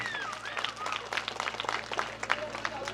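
An audience claps in an uneven patter to welcome a guest being garlanded at a lucky draw ceremony, while someone talks over the applause.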